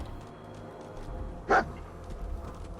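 A dog barks once, a single short sharp bark in the video game Fallout 4, standing out above a low background of game ambience.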